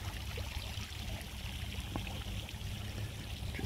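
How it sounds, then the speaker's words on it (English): Recycled water trickles over a rock drop and down a rocky cascade into a pond at a mini golf course, making a steady, close, fairly loud rushing babble with no pauses and no voices. "It then trickles over that little drop in the rock there to our lower pond, and then it down she goes through the rocky cascade,"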